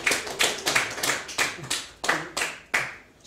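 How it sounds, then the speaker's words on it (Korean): Audience clapping for a lecturer, an honorary engineering professor and historian, at a lecture event; a small group gives sparse, uneven claps in a loose rhythm, fairly close and moderately loud, with no voices. "박수 한번 쳐주시죠."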